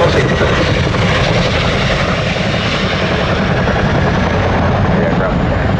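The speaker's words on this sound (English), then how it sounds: "The aircraft is now going to position expeditiously forward and down to recover the troops" A military aircraft engine roars steadily and loudly throughout a nose-down quick stop, a dense, constant close-up drone with no breaks.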